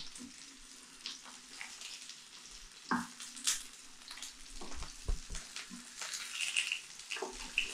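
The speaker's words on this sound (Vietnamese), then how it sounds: "ở đây thì rán với lại mớ lợn ấy, mớ lợn đảm nên rất là thơm" Pork caul fat cakes fry in a pan with a soft, faint sizzle and scattered crackles and pops, along with occasional clinks of utensils.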